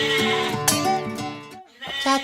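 A cartoon goat bleats in a series of wavering, nasal cries, close and fairly loud, with a short pause before a final bleat.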